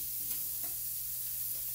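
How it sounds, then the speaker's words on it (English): Soft, steady sizzling of burgers frying in a skillet, low and continuous with a faint background hum. "I got burgers frying."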